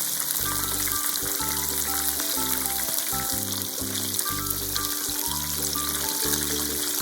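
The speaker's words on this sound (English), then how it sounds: "Put the chicken cartilage in the oil and fry them." Steady sizzling and crackling of chicken cartilage frying in hot oil for Japanese karaage, continuous and close, with faint bubbling throughout.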